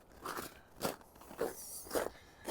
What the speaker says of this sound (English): Hear the snow crunch.